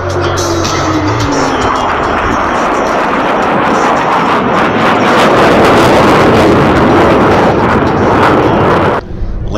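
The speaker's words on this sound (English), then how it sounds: "Each pilot will perform an individual brake turn and exit the flight line in a separate direction." U.S. Navy Blue Angels jets make individual brake turns at the California Capital Air Show, a loud, continuous roaring jet rush with heavy wind buffeting that swells and then cuts off sharply near the end.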